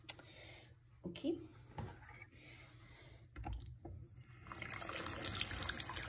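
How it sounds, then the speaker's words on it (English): Paint-tinted water poured out of a Barbie pet color-reveal toy, a soft splashing trickle that grows louder toward the end, with people talking throughout. "because this water has paint in it, it probably stains a little bit, so let's pour it out"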